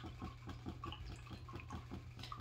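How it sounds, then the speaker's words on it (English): A paintbrush rinsed in a water pot, with soft, rhythmic swishing and light dripping that stays faint over a low steady hum. "I'm going to wash out my brush."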